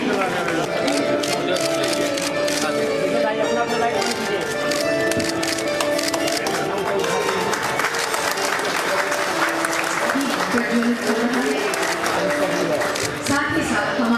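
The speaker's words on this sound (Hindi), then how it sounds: "जोरदार तालियों से हम अपने हृदय की भावना माननीय अतिथियों तक पहुंचा रहे हैं।" A conference audience in a hotel hall breaks into loud, sustained applause, a dense wall of clapping that holds steady for the whole stretch, while a voice speaks over it.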